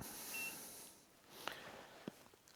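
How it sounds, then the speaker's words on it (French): An Aferiy P310 portable power station gives a short, faint electronic beep over a quiet background hiss, a single brief tone with a couple of tiny clicks after it. "L'appareil vient de biper"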